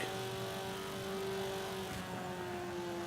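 A 2005 Subaru WRX Impreza in the racing game Forza 5 gives a steady, moderately loud engine drone with a held tone that shifts pitch slightly partway through, like the car cruising or changing gear, with no voices.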